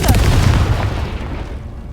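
Confringo spell explosion in the Hogwarts Legacy video game: a single loud booming blast with a deep thump that quickly decays into a fading rumble.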